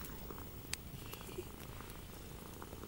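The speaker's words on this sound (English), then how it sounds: "a purring cat" A cat purring softly and steadily up close, a low continuous rumble with a couple of faint clicks.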